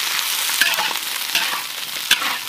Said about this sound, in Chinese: 锅里倒油，搁入鸭肉，然后啊给它不停的煸炒